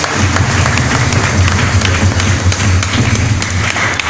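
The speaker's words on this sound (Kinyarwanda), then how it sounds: "Amashyi menshi cyane" A church congregation breaks into sustained applause, a loud, dense wash of many hands clapping steadily throughout.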